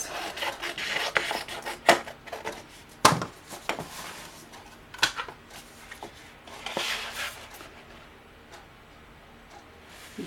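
Intermittent snipping and paper rustling up close as scissors cut black paper, with irregular crisp clicks and rasps spread across several seconds.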